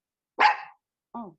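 A dog barks twice indoors, close and fairly loud: one strong bark and then a shorter, softer one after a pause of about a second, with no other sound around them.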